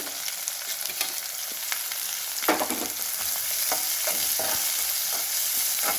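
Dry red chilies, green chilies and chopped onion fry in a pan for a Karnataka bassaru, giving a steady close sizzle broken by scraping stir strokes that grow livelier toward the end.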